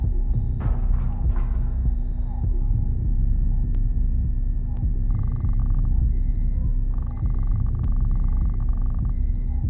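Alarm clock ringing inside the video game Blank Frame, a repeated electronic beeping in short evenly spaced bursts over a low steady hum, fairly faint against the background drone.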